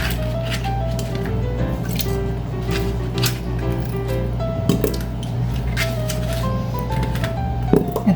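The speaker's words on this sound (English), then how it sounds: "I'm just going to put the potatoes in there" Potatoes being dropped into an Instant Pot for an all-in-one meatloaf and mashed potatoes meal, with repeated soft thuds, knocks and squishy handling noises against a steady background hum.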